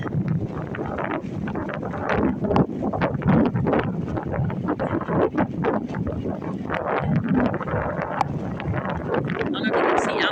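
Strong wind on the stormy Oregon coast buffets the microphone with a constant loud roar and gusty surges, while a person talks underneath.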